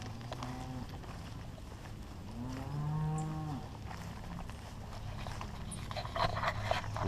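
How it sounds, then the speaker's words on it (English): Cows near an embankment on a blackbird hunting ground give one drawn-out moo that sounds faint and somewhat distant, over quiet outdoor background noise with no talking. "We got cows down here."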